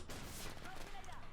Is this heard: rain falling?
no